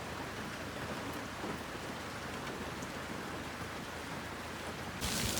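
Heavy rain after several days of downpour in Vang Vieng, Laos, pours down as a constant dense hiss of drops on surfaces that grows slightly louder near the end, with no voices.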